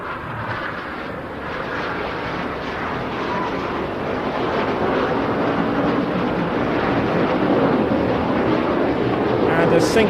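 Display jets at the Bournemouth Air Festival fly synchronised barrel rolls, their engines a broad, steady roar that slowly builds in loudness, with wind buffeting the microphone.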